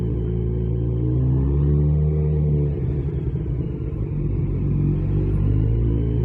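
A 2020 Kawasaki Z900RS Cafe motorcycle fitted with Lextek cat-delete downpipes rumbles steadily at close range, its deep engine note holding level with a brief dip in the middle, with no voices.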